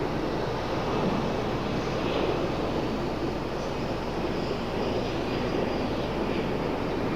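An airliner departing after dark at DFW near Founders Plaza fills the air with a continuous, broad jet roar, steady and moderately distant, with no voices.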